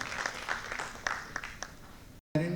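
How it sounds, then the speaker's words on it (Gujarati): An audience claps to welcome a speaker onto the stage at a parents' foundation-stage training session, giving a short spell of moderate, steady applause that cuts off abruptly near the end. "જોરદાર તાળીઓ સાથે આપણે સાહેબશ્રીનું મંચ પર સ્વાગત કરીએ છીએ"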